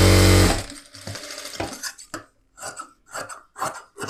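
A sewing machine stitches a blouse collar in a loud opening run, followed by several short rhythmic bursts of stitching with pauses between.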